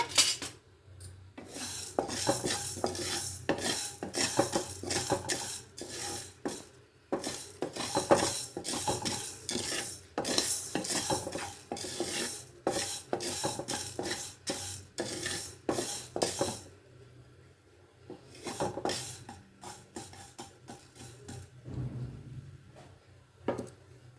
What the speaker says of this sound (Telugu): మనం తీసుకున్నటువంటి మెంతులు మిరియాలు ఇవి కొంచెం దోరగా వేగిన తర్వాత